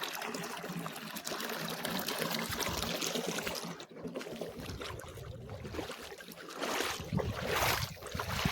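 Water gushes steadily out of a newly drilled borewell as a continuous, fairly loud rushing and splashing that swells slightly toward the end.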